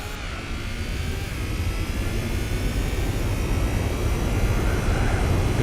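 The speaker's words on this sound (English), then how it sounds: "Listen to that engine." Continuous droning car engine from the Gran Turismo 4 racing game, a steady, even hum with a slowly shifting pitch and no voices over it.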